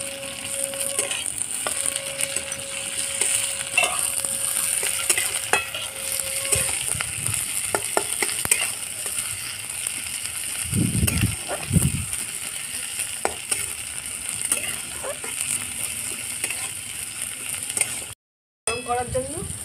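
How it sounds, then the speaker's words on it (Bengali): Thinly sliced onion goes into hot oil where garlic has already browned, producing a continuous sizzle with stirring and clinking of utensils, plus a brief break near the end. "ঝিরিঝিরি করে রাখা পেঁয়াজটা দিয়ে দিলাম"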